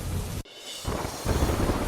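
A heavy monsoon downpour pounds Kheda in Gujarat amid street flooding, a dense, roaring wash of rain that cuts out abruptly for a moment before surging back at full strength.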